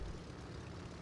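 Steady low drone of an airplane in the airport management game Airport CEO, a continuous engine hum that holds at one level throughout with no talk over it.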